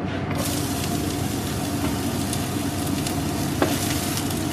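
Garlic and onions sauté in a little olive oil alongside small carrots, giving a steady, close, continuous sizzle with faint stirring scrapes throughout and one brief sharper clink near the end.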